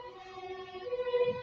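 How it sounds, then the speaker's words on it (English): A steady wailing Dutch fire truck siren sounds from a distance in Amsterdam, its tone holding and slowly growing a little louder as it passes. "you hear now those sirens,"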